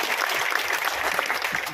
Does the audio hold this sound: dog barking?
no